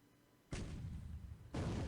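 Heavy naval guns firing 8-inch shells in a World War II strategy game, two loud booming blasts about a second apart, each a broad roaring burst that sustains and fills the clip.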